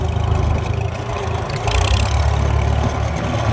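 A Farmall H tractor engine runs steadily in second gear across a small field, a close, loud, throbbing low chug with a slight rise in intensity partway through.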